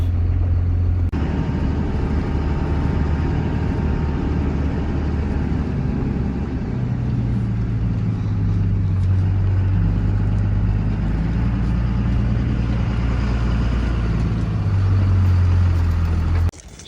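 A pickup truck dragging washed-up logs across a planting field like a skidder, its engine running steadily with a low droning rumble close by throughout, no talk over it.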